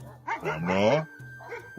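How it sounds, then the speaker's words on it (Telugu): A dog barks loudly in a drawn-out yowl, followed by a shorter second bark, close and clear. "ఆసామి పెంపుడు కుక్క అదే పనిగా మొరుగుతూనే ఉంటుంది"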